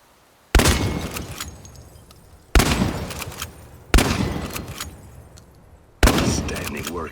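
Four heavy shotgun blasts boom out in the video game Chernobylite, each a sharp crack followed by a rolling echo and decay, spaced about one to two seconds apart.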